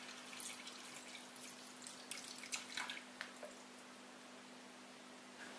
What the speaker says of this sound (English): fill the canister with clean water to just above the top of the filter plate